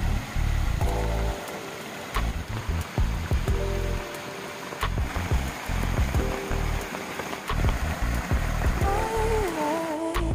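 Rain falling on a rushing mountain valley stream at Geumgangdae near Sodang village, Sancheong, a dense continuous wash of water with scattered drops, and faint tonal hums drifting through.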